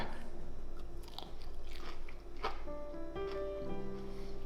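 Close crunchy bites and chewing of lemon pepper crumbed chicken, with a few sharp crisp bites over steady background hum, and a brief faint tone near the end.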